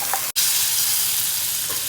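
Ground ginger-garlic-chilli paste sizzles loudly in hot oil in a pan for a prawn roast, a steady close frying hiss broken by one brief dropout near the start.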